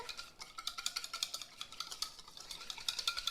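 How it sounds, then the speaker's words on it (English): A lemon juice dressing being lightly whisked in a bowl: quick, rhythmic light clicks and swishes at a steady, fast pace, close by and fairly soft, with no talking. "we're just going to lightly whisk those together"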